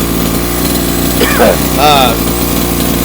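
A Redcat XR nitro RC car engine runs through break-in, a steady, loud, high-pitched buzzing drone with brief tonal chirps over it partway through.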